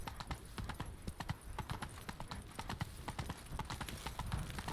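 The horse Roach from The Witcher 3 gallops with fast, evenly spaced hoof clip-clops that go on throughout. The hoofbeats are moderately loud and close, over a soft wash of background noise.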